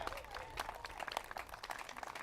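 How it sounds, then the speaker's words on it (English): Scattered applause from a gathering at the Centennial Hall ribbon cutting, honoring staff and board members; light, uneven clapping at moderate distance with some crowd murmur. "They deserve a resounding round of applause"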